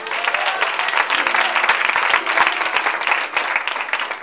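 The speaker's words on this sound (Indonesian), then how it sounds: "Tepuk tangan yang dahsyat." A large crowd breaks into loud, dense, sustained applause, with rapid overlapping claps and faint cheering that carry on unbroken throughout.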